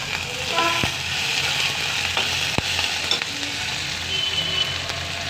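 Green chillies and curry leaves fry in hot oil for a potato curry, giving a loud, continuous close sizzle with a few sharp crackles and spoon taps, and no talking.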